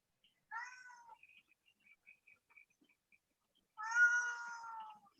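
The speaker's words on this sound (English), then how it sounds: "Oh, somebody's kitty." A cat meows twice in a quiet room: one short cry, then a longer and louder drawn-out meow after a pause, with faint background noise between them.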